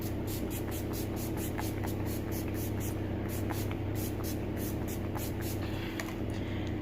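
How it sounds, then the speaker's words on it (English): Fix Plus setting fluid mists from a spray bottle onto a face in a fast train of light, hissy spritzes, fairly faint over a steady low room hum. "I just sprayed out all on my face and let it dry"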